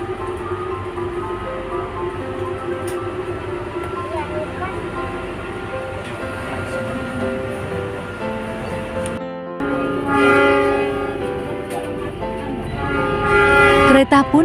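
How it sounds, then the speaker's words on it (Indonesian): A passenger train in Indonesia, bound for Malang, rumbles along steadily, with a tonal hum and rhythmic rail noise that grows louder and harsher toward the end. "Kereta pun segera meluncur."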